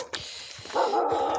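A village dog gives a single short bark near the start, followed by a sustained higher whine or whimper that carries through the rest of the brief moment, at moderate distance.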